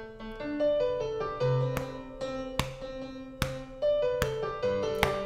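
A song recorded on a MIDI keyboard plays back as clean piano-like notes, with bright melodic runs over lower chords, struck in a steady rhythm and heard alone, close and clear.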